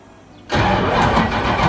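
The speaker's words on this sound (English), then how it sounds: "I want to hear it start." A Toyota AE86 fitted with an LS V8 fires up after a quiet moment, cranking into a loud, steady idle with a rough, throbbing rumble that holds close and strong to the end, with no talk over it.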